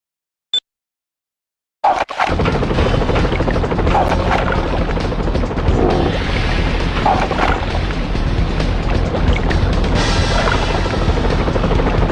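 Helicopter rotors in the PlayStation game 007: The World Is Not Enough, a dense, loud, continuous churning roar with booming impacts, starting abruptly after a brief blip and silence and running steadily to the end.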